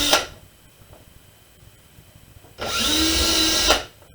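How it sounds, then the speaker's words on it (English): A brief whir at the start, then a power drill bores through a stack of paper for a sketchbook, running steadily for about a second, loud and close, before stopping. "Now you don't have to use a drill for this."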